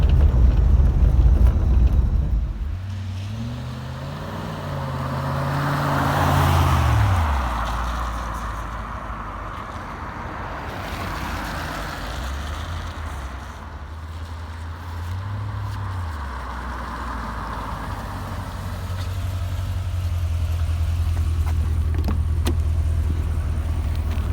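A 1990 Corvette C4 engine hums steadily as the car pulls away and drives along, with gear-like pitch changes rising and settling, fairly close and without talk.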